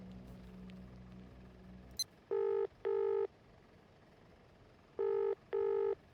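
A telephone number being dialed in the Barrow Hill adventure game: after a short hum cuts out, four clean electronic dial tones sound in two pairs, steady and moderately loud, with a faint background hiss.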